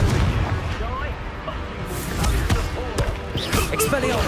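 Confringo fire spell blast in Hogwarts Legacy, a booming, rumbling burst with sharp cracks under spoken game dialogue, followed by further thuds and crackles.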